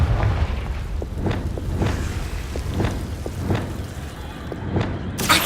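Confringo spell blasts from the video game Hogwarts Legacy go off in a rapid series of booming explosions about every half second over a dense rumbling game background, loud and close.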